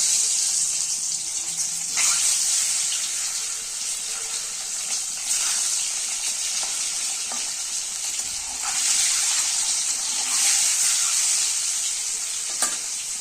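Eggs fry one by one in hot oil for an egg curry, giving a continuous bright sizzle with occasional louder spatters and clicks of the utensil, with no talking over it.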